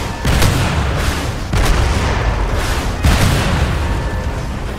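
Loud booming blasts and gunfire aimed at a tank in a combat game, three heavy explosive hits spaced about a second and a half apart over a constant roar of battle noise.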